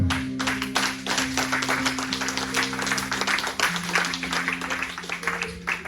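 A church congregation claps and applauds the Lord in steady, sustained applause throughout, with voices and a held organ-like musical tone underneath.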